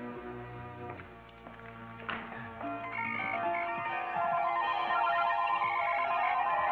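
A telephone rings in a scene from an Egyptian comedy film, an electronic tonal ring that grows louder and more insistent over several seconds and blends with other sounds.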